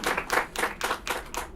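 Bursts of hand clapping from an audience at a business address on small enterprise and inclusive growth, several quick rhythmic waves close by with no talking over them.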